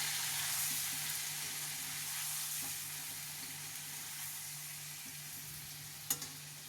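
Steady frying sizzle from tomatoes sautéing in a pan, a constant hiss with a low hum underneath and a sharp clink near the end.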